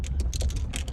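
Hangers jostle on a clothing rack in the back of a lived-in truck, a quick run of light clicking rattles over a low engine and road rumble.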